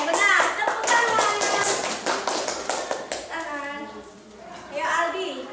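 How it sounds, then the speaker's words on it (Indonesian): Children clapping in a classroom after a science lesson answer, a burst of quick, loud, close claps that thins out, then rises again, with children's voices chattering and calling over it. "Benar, tepuk tangan."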